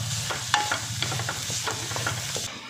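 Half a kilo of jaggery cooks in a pan until it melts, giving a continuous low sizzle with scraping stirs and soft spoon clicks, close and steady.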